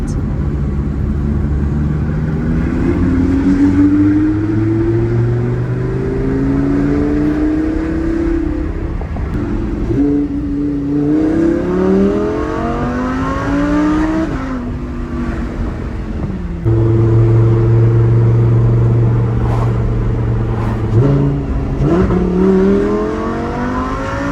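Lamborghini Huracan pulling hard on a public street: a loud, close engine revving up through the gears in repeated rising sweeps with brief shift breaks, ending in a sustained drone with no talk over it.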